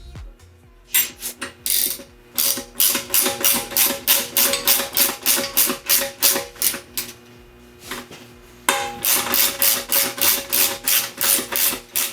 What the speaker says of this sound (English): And we'll torque these to 8 foot-pounds.